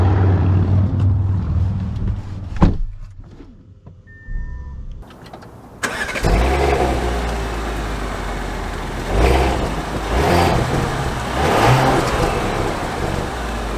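A 2023 Audi Q8 Premium Plus with a 3-liter V6 pulls away: after a quiet cabin moment the engine starts, then a steady, loud drone of driving and acceleration continues with rising surges.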